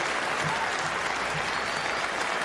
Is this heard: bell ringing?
no